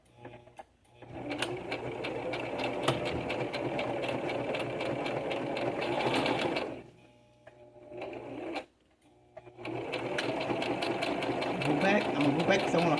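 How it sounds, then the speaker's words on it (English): A sewing machine stitches through a giant paper bag journal in two long steady runs with a brief pause between, close and loud, its rapid needle rhythm continuous, with faint talk in the gap. "I want to really sew this tight"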